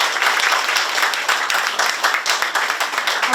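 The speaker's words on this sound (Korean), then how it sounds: "큰 박수로 환영해 주시기 바랍니다" Audience applause welcoming honored guests at the 17th May Mothers Award ceremony, a dense, steady clapping from a seated crowd filling the room throughout, with individual claps faintly distinct.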